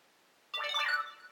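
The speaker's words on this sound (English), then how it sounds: "that was my phone" A mobile phone starts ringing abruptly after a near-silent moment, a bright tonal ringtone that holds steady for under a second before tapering off.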